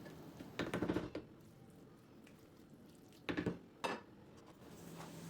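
Utensil clinks and scrapes against a pot in short bursts, with quiet pauses between strokes of stirring a spiced, salted mince mixture for içli köfte.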